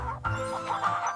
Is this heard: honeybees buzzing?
no